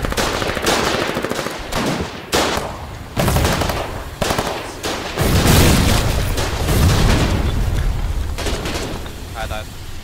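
Loud, dense bursts of machine-gun fire in a World War II–era Battle of the Alamo 1942 video game, rapid rattling volleys with heavy booms and explosions layered throughout, nearly continuous and close.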